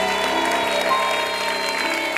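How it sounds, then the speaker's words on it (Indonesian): A studio audience on the Family 100 game show applauds in a dense, continuous wash of clapping, with music tones sustained beneath it throughout. "Tepuk tangan untuk Alado."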